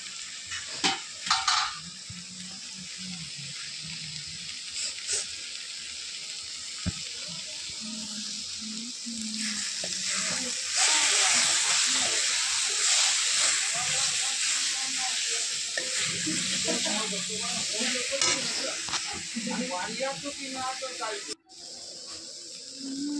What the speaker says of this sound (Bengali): এবার মশলাটাকে ভালোভাবে কষাবো।